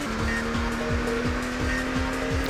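A Lamborghini race car engine drones in the Nintendo 64 game Automobili Lamborghini, a steady loud tone with repeated gear-shift pitch drops and some tire squeal.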